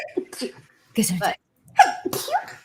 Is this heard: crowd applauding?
no